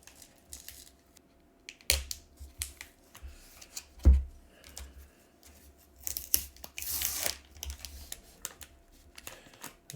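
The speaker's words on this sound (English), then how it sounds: "there's a lot of tape on the edges here, as you can see, and I'm trying not to just slice right through" Scissors or a blade snipping and slicing through packing tape along the edges of a cardboard package holding comic books, with scattered close cutting and tearing noises and a longer scraping rip near the end.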